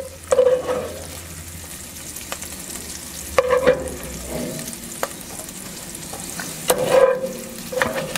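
Minced meat frying in chorizo fat inside a Dutch oven, a soft constant sizzle broken by a few louder stirring scrapes and knocks, close by with no talking.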